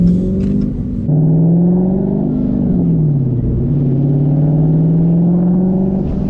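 A 2023 Dodge Challenger R/T Scat Pack Widebody with a Hemi V8 pulls away under throttle, a loud close deep burbling rumble whose pitch climbs, dips briefly between gears, then rises again steadily.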